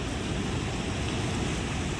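Steady, dense roar of a swollen river surging in waves beneath a bridge after a dam release, a constant broadband rush that stays even throughout.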